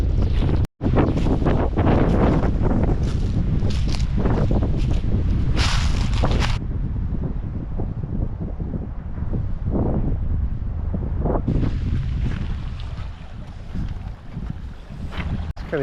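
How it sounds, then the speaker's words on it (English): Strong wind roaring steadily across a microphone on the windy side of a river-valley island, a constant low rumble with brief gusts and no voices. "Oh, the wind picked up, or this is just the windy side of the island?"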